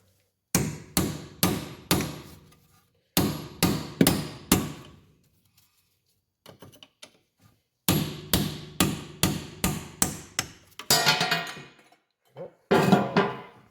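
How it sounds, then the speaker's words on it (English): A hammer strikes a wheel bearing cap on a Mercedes C-Class W202, ringing metallic blows falling in quick close-up clusters of four to six, separated by pauses and a few lighter taps. "So we're going to just pop this cap off."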